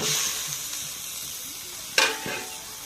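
A spice mixture sautéing in a pan gives a steady sizzling hiss. Near the end a sudden louder burst of sizzle and scraping suggests it is being stirred.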